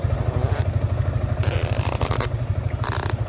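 A 2025 Yamaha MT15 motorcycle engine idles close by with a steady, rapid, throbbing pulse, broken by bursts of mechanical rattle and brief noise.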